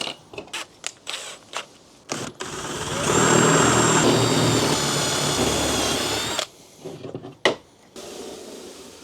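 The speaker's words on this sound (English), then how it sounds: "I'm going to have to countersink these holes quite a bit to get them where I need to be" A power drill countersinks screw holes in wood during a camper van build, with a loud steady whining run of about three seconds between shorter knocks and handling clatter; no talking.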